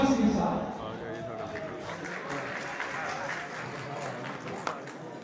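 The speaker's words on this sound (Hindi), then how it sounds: "तो अपनी तालियों का सिलसिला है जो इसी तरीके से जारी रखिएगा" Audience applause at a poetry gathering in Toba Tek Singh, with a burst of clapping at the start fading into a softer patter of claps and murmur.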